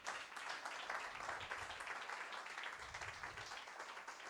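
A church congregation claps for the Lord during a service. The applause is soft and distant, a steady rustling patter that continues for a few seconds.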